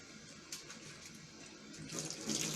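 Water runs steadily from a tap into a sink as hands are rinsed after soaping, a continuous close hiss that swells louder toward the end.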